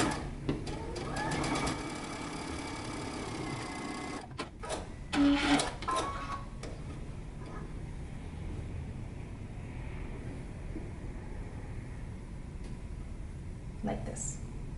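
A domestic sewing machine understitches a pant pocket seam with a steady mechanical whir and rapid needle chatter. The machine stops and starts a few times, and someone talks over the sewing.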